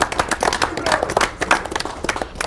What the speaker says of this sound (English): Let's give Joe in the 3 seat a round of applause